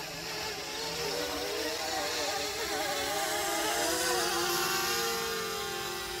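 A DJI Mavic Mini drone descends to land outdoors in gusty wind, giving a steady, close, high buzzing whine whose pitch wavers and shifts throughout.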